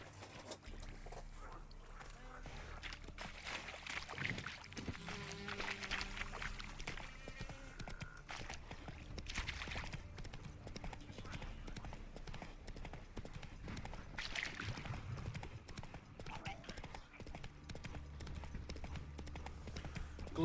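Roach the horse galloping in The Witcher 3, steady rhythmic hoofbeats of clip-clop that run throughout, close and moderately loud.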